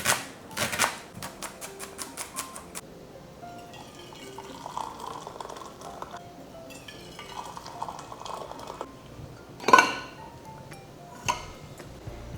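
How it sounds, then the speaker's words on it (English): A knife chops half an onion and minces garlic on a cutting board at home, giving quick, rapid taps at first and then a sparser, uneven run of light knocks close by, with a louder clack near the end. "I'm going to start by chopping up a half of an onion and mincing some garlic."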